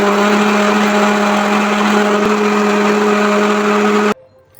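Mixer grinder whirring steadily as it grinds roasted gram with sautéed onion for a coconut-free chutney, a loud continuous motor drone that cuts off abruptly near the end.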